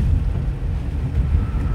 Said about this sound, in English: The wind's getting interesting here.